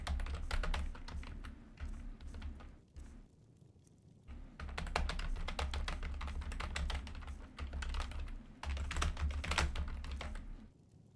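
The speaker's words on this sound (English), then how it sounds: "You guys heard me bang on my keyboard." A computer keyboard is typed on and banged hard in fast, clattering bursts close to the microphone, with short pauses between flurries of keystrokes and a steady low hum underneath.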